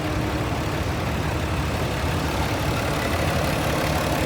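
A 1974 Rockford Farm 766 tricycle tractor runs in a steam and gas show parade, its engine a steady, broadband rumble with a low throb, close and continuous.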